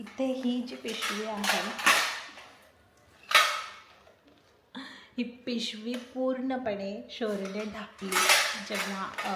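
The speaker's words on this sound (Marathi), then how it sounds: "सॉरी भांड्यांचा आवाज येतोय" Metal kitchen containers and utensils clatter and knock in sharp bursts, mixed in under a woman's steady, close talking.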